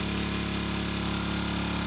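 A water pump runs steadily at a well drilling site, pushing carried-in water through the drill setup with a continuous, loud mechanical engine drone and a low hum that holds without a break throughout.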